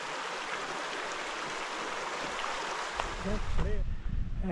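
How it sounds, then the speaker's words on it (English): A clear mountain stream rushes steadily along a Coast to Coast walking route, a constant close watery hiss, with someone speaking briefly near the end. "Beautiful clear mountain water."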